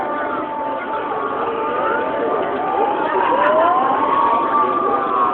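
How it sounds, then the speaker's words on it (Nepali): Wailing fire engine siren at a Bonfire Night fireworks event in Blackheath, rising and falling in sweeping tones over a loud, steady crowd and street din, with voices in the background. "दमकल"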